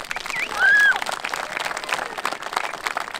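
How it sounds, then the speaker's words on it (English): Crowd applause at the closing ceremony of a youth rippa rugby championship, outdoor clapping that stays steady throughout, with a brief whistle or whistle-like tone and scattered cheering voices mixed in. "Give yourselves a round of applause."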